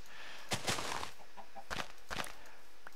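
Minecraft chickens clucking in a few short, soft bursts at a moderate distance, with gaps of quiet game ambience between the calls.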